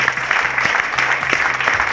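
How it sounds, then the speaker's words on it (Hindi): Audience applause fills a seminar hall at an RCM business event in Panipat, a steady wash of clapping lasting about two seconds with a faint low hum underneath. "एक बार दिल खोल के गुरुदेव पीसी छाबड़ा जी के लिए तालियां बजा सकते हैं।"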